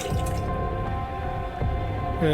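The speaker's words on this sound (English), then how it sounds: "So, 1 bucket of water." Water poured into a bucket while mixing a cleaning solution in a video game, a steady watery fill with dripping texture lasting the whole stretch at moderate loudness, no talking.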